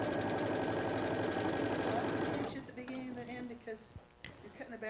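A sewing machine stitches a mini quilt with a steady fast mechanical whir for about half the clip, then stops, after which people talk quietly over faint handling sounds.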